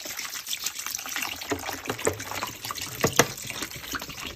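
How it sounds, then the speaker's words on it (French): Water poured into a homemade fizzy lemonade mixture with sugar, grape seeds and a little rice, a close, uneven trickle and splash with several louder gurgles, no voices. "Et on rajoute l'eau."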